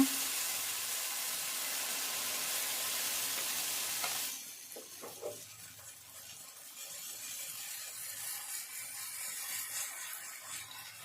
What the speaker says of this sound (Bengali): এবার এখান থেকে 2 চামচ মিশ্রণ তাওয়ায় দিয়ে দেব।